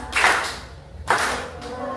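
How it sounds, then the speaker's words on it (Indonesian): Two separate claps from a group during a hand-movement exercise in a teaching session, each a soft burst with a gap between them, sitting over quiet room tone. "ayo tepuk tangan"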